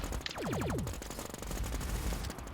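Rapid burst of about five shots from a Genshin-style video game shooter, close and loud, each with a sweeping tail, followed by continuous game noise and clatter.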